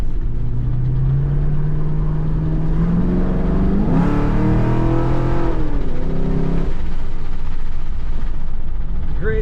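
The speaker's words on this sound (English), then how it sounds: "Great sound and exhaust on this Camaro." A 2010 Chevrolet Camaro 2SS coupe accelerates hard, its V8 exhaust rising in pitch through a gear and swelling into a loud, rumbling roar before easing off, heard from inside the car with the window down.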